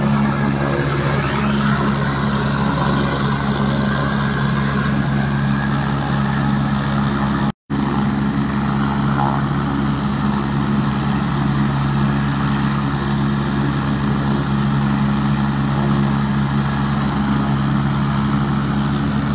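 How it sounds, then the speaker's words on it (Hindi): A constant low engine drone with a steady hum and whine from a helicopter idling on the ground before take-off, loud and unchanging, briefly cut out once. "जो हेलीकॉप्टर है वो"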